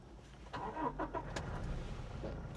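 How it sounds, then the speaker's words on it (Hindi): Toyota car engine starting with a brief cranking burst and catch, settling into a low, quiet idle rumble with slight shaking rattle of the gear lever. "एक बार मैं गाड़ी को स्टार्ट करता हूँ और आपको ये चीज़ दिखाता हूँ इसकी"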